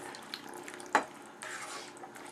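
Coconut powder dissolved in hot water is poured into a pot of egg kurma, making a soft liquid splash with a brief clink, then a gentle steady pour, close and quiet.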